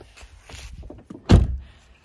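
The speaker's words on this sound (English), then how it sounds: "He got a glove box." A 2011 Volkswagen Jetta 2.5 SEL's glove box opens with some light plastic fumbling followed by a single solid thunk, close up and short, with no talk over it.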